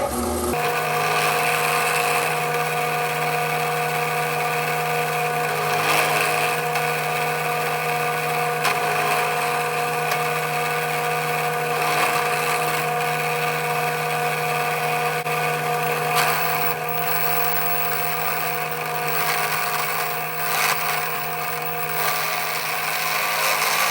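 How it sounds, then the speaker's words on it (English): Power drill boring straight down into a cigar pen blank, a steady high whining motor tone held continuously for over twenty seconds with slight shifts in pitch and load, close and moderately loud, no talking. "So I'm just going to move that over and then re-drill straight down."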